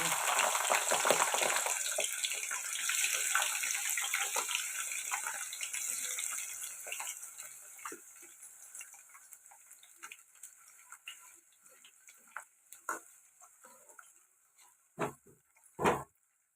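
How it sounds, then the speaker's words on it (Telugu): Cut ivy gourds deep-frying in hot oil over a medium flame, a loud bubbling hiss at first that gradually quiets into softer sizzling with occasional clanks of a utensil. "ఇప్పుడు ఇవి ఫ్రై అవ్వాలి ఇలాగా మీడియం ఫ్లేమ్ మీద"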